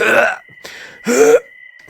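A voice imitates a cough and throat clearing with two rough, guttural bursts separated by a short pause, close and loud.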